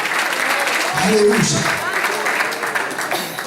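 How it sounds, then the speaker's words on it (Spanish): Congregational applause at an evangelical church service in Spanish, a broad steady wash of clapping filling the room throughout, with a preacher's voice and shouts of praise rising over it. "Denle fuerte el aplauso al Señor en esta hora"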